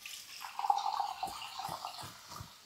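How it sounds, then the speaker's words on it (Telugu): Water poured into a pan of cooking chicken, a short, quiet splashing pour lasting about two seconds, heard close with no talk. "ఇప్పుడు మనం ఇందులో కొంచెం వాటర్ వేసేసి బాయిల్ చేసామంటే సెట్."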